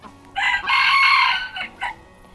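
A bantam rooster crows close by, one loud, strained cock-a-doodle-doo in several rising and held parts, ending with a short final note.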